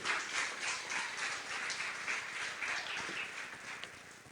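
A church congregation claps together in sustained, dense applause, steady and fairly distant, with no one speaking over it.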